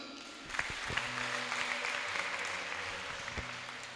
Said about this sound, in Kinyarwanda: Nagira ngo nawe mumpera amashyi